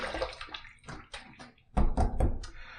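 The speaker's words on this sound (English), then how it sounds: "I just did one quick splash to throw some water on there to kind of move things along." Water splashes and sloshes at a sink in several uneven bursts as a man rinses his face mid-shave, close and fairly loud with no talking.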